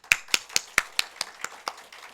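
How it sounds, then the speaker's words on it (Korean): Rhythmic clapping during a Korean church youth service: about nine sharp, evenly paced claps that fade slightly toward the end, heard alone without speech. "박수 한 번만 해요."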